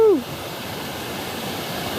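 Steady broadband rush of a waterfall along the Pipiwai Trail toward Waimoku Falls, with pools nearby, continuous and moderately close, opening with a brief whoop from a voice.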